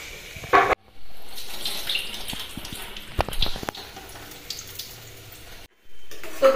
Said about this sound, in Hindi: चलो राइस को अब वॉश कर लेते हैं अच्छी तरीके से